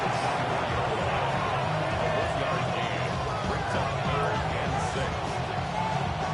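A football stadium crowd at a Browns vs Ravens game keeps up a loud, steady roar for several seconds with no break.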